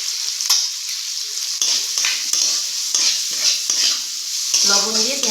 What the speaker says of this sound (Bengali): লবণ দিয়ে পেঁয়াজটাকে খুব ভালোভাবে ভেজে নিচ্ছি।